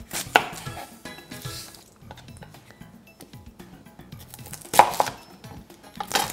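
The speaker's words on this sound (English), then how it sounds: "So I'll just cut off the ends here." A knife chops through a shallot on a cutting board, giving a few sharp knocks against the board with quieter taps and handling noise in between, close and fairly faint.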